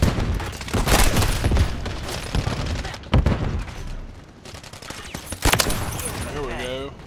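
Gunfire in a space shooter video game comes as repeated sharp bursts and booming blasts in uneven clusters, loud and close, with a voice talking between the volleys.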